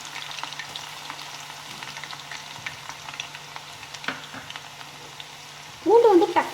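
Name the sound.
crushed garlic frying in oil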